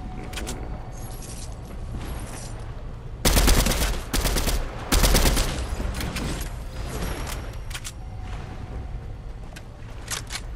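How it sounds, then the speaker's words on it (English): Fortnite gunfire crackles in two loud, close bursts of rapid automatic shots over a steady, faint background, followed by a few scattered single shots. "Someone just shot at it."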